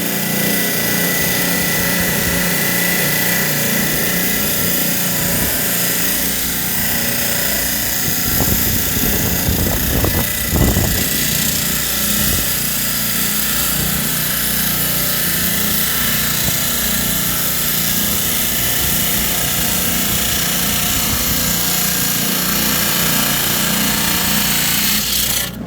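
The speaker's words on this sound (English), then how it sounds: "The fluorite cuts really easily, and then as we hit the opal, it's way harder, so we'll hear the saw sounding more taxed" A rock saw cutting through a fluorite crystal, giving a loud, steady, grinding whine that runs without a break. The pitch wavers briefly around the middle as the blade bites, with motor drone underneath and no voices.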